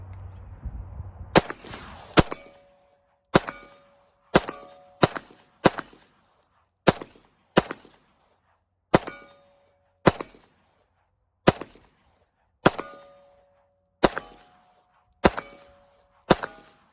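Canik TP9 pistol fired at an outdoor range, about a dozen sharp shots spaced a second or so apart, most followed by a bright metallic ring as steel targets downrange are struck, a few shots landing without the clang.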